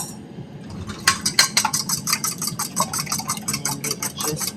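Close, rapid clinking of a whisk beating eggs with milk, salt and pepper in a bowl, a brisk metallic rhythm running continuously after a quiet start.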